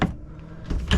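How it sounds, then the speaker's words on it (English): A small pull-out drawer in a family-sized Lance travel trailer is opened in two brief close knocks and a slide, with no talking. "little pull-out drawer"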